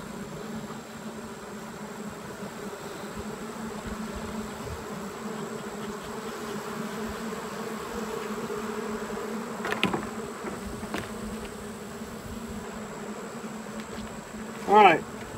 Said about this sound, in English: this frame was full of bees just a moment ago until I smoked them off of there.